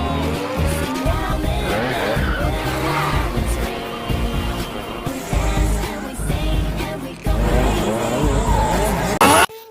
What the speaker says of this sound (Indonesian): Mereka berdua pun akhirnya balapan,